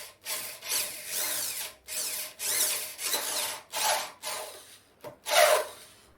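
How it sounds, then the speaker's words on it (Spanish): A power drill bores holes into wood with a 1/4 inch wood bit and countersink, running in repeated close, loud bursts of about half a second to a second each, separated by short pauses, with no talking. "procedo a hacer las perforaciones sobre la madera con una broca de 1/4 de pulgada para madera y avellanador"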